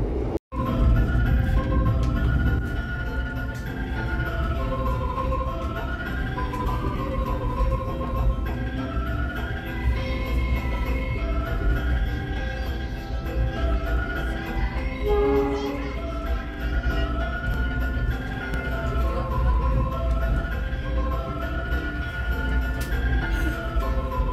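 The Argo Wilis train at Bandung station hums with a loud, steady rumble throughout, its tones rising and falling across the whole stretch. A crowded platform murmurs underneath.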